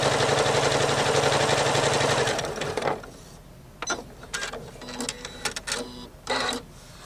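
A sewing machine with a built-in walking foot stitches a line in one dense, steady burst for about three seconds, then stops, leaving a few quieter clicks and rustles.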